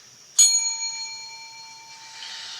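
A classroom bell strikes once with a sharp onset, then rings on as a bright, sustained metallic tone that slowly fades, heard alone in a quiet room.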